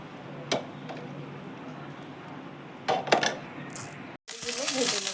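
Bitter gourd pieces fried in hot oil in a kadai: a few clinks and knocks, a brief silence, then a loud, bright sizzle that sets in and holds to the end.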